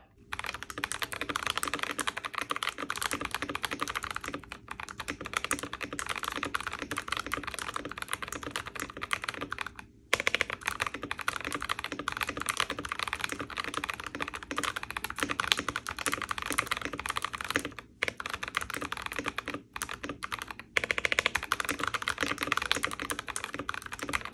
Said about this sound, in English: A typing test every day until I get to 130 consistently.